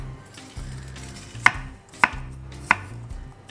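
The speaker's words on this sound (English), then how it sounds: "I cut this in cubes" A knife cuts food into cubes for an apple crumble tart, striking the board three times in a slow, even rhythm, each chop a crisp, close thud heard alone in a quiet kitchen.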